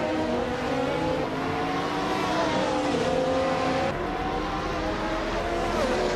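Race cars overtaking one another in a racing video game, their engines a steady, loud drone that rises and falls in pitch throughout, with no talking.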